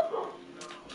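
A pet dog giving a short whimpering yip, close and moderately loud, a single brief sound lasting under a second with no talk over it.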